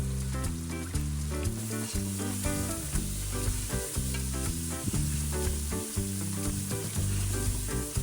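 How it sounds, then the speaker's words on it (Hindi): Mutton paya frying in ghee, a continuous bright sizzle under a loud, rhythmic music track that runs the whole time. "और भुनाई आपने तब तक करनी है जब तक कि साइडों से घी निकलना ना स्टार्ट हो जाए"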